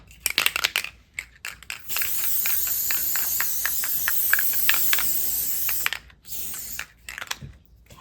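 Aerosol spray can hissing onto a composition notebook cover in a DIY felt journal project, a series of close, loud sustained bursts with short pauses between them.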